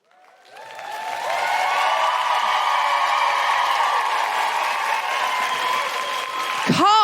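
A live theatre audience in Cardiff applauds loudly and steadily, a dense wash of clapping and cheering that swells within the first second and holds at full volume before breaking off near the end.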